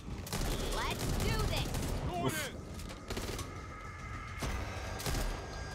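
Repeated gunshots and bursts of automatic fire in the zombie shooter Back 4 Blood ring out over a constant game background, with sporadic sharp cracks and some in-game calls mixed in.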